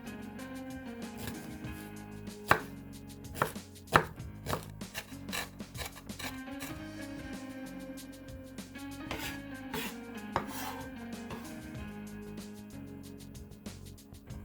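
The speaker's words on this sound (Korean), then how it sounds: "대파 흰 부분의 일정 부분을" The white part of a green onion is minced on a cutting board with a knife, giving quick, irregular chopping taps, a few sharper and louder, over a faint musical background.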